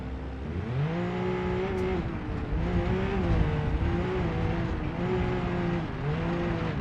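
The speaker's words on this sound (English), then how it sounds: "this is like a regular side-by-side with a CVT transmission, but it does have a turbo on it, so yeah, she launches hard" Turbocharged side-by-side with a CVT transmission in BeamNG, engine droning loud and steady while accelerating, its pitch rising and falling in smooth waves over continuous road rumble and faint tire noise.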